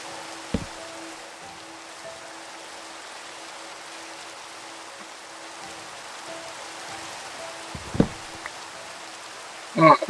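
Steady rain falling in a block-building video game, a soft constant hiss with a few short clicks and thumps from gameplay over it.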